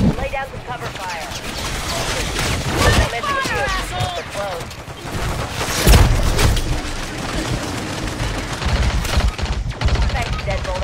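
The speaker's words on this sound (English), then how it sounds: "Lay down the cover fire." Dense video-game gunfire in Call of Duty MWIII Zombies, with sustained bursts and booming shots layered under squad radio chatter and voices throughout.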